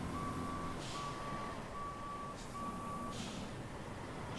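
Reversing beeps from a truck in the Roadcraft video game, four evenly spaced steady tones over a constant engine rumble, fairly close and clear with no talk.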